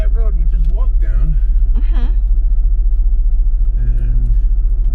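Steady low rumble of a car driving along a road, heard from inside the cabin, with people talking over the engine and road noise throughout.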